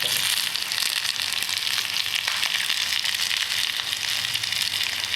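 Onions sautéing in a pan with salt and tamarind while adai dosa is cooked, giving a steady, close, high hiss of frying with faint crackle and no voices throughout.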